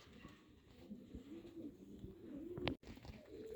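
A team of red Hungarian pigeons coos in low, rolling calls, repeated and fairly close, with a brief sharp knock near the end.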